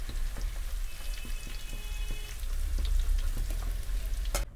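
Steady crackling sizzle of cauliflower pieces frying in hot oil, close by, with scattered pops throughout and no voices.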